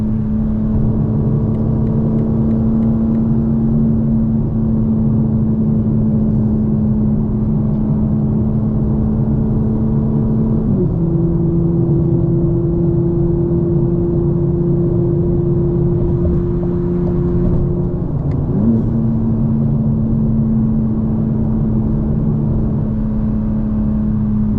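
A 900 hp 2025 BMW M4 Competition xDrive with an MHD tune drones steadily, heard from inside the cabin, its loud engine hum holding a constant pitch with two brief steps at gear changes; no clear burble stands out.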